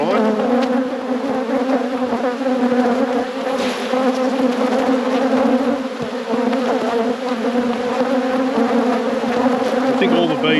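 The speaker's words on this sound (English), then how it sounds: "I think all the bees are now outside the box." Honey bees swarm and buzz outside an open hive box, a loud, steady, dense drone of many wings filling the air close by, with a few individual bees passing nearer.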